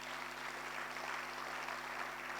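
Audience applause for the MC at a youth empowerment event, a continuous wash of clapping heard at moderate distance with a faint electrical hum beneath.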